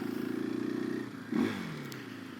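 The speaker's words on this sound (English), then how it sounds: "we are off on the KTM 500" A KTM 500 EXC-F dirt bike rides on a cold street, its single-cylinder engine putting out a rapid, buzzy, close thrum that drops briefly and then surges with a quick rev before settling.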